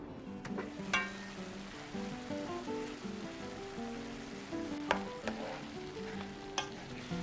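Radish namul stir-fried in a pan with perilla oil, a steady close sizzle with scraping stir strokes and a few sharp utensil clicks throughout.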